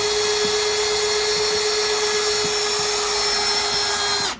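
A power drill fitted with a mixing bit whines steadily at high pitch while stirring compost, loud and close, running continuously before cutting off abruptly at the end.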